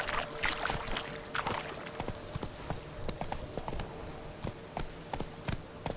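Hooves of a video game horse named Roach clip-clop at a steady walking pace, close and distinct, each footfall crisp against a quiet background.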